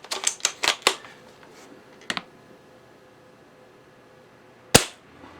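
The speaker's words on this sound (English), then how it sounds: "keep firing, put the BBs back in there." UTG Gen5 spring airsoft sniper rifle firing BBs: a quick cluster of sharp snapping clicks at the start, a double click near the middle, then one loud crisp shot near the end, with quiet background between.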